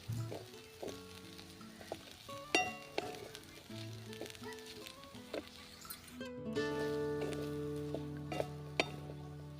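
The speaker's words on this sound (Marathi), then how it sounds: "कश्मीरी लाल तिखट पुन्हा एकदा परतून घेऊया" Vegetables with fresh turmeric, ghee and Kashmiri red chilli powder sizzle steadily in a pan, with a spoon scraping and clinking against the metal in scattered sharp knocks; the frying grows fuller and louder partway through.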